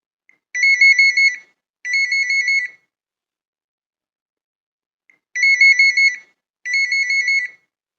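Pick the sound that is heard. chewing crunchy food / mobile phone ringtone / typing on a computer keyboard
mobile phone ringtone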